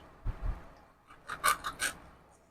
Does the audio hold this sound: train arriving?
no